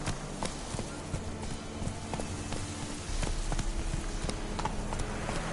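Hooves of the horse Roach clatter in quick rhythmic clip-clop beats in a video game, a steady galloping patter that grows slightly louder toward the end.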